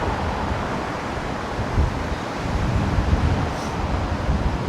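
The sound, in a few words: strong wind on microphone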